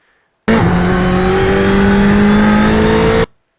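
Race car engine at full throttle on the VIR circuit, a loud continuous accelerating roar with steadily rising pitch that cuts in abruptly and stops just as suddenly.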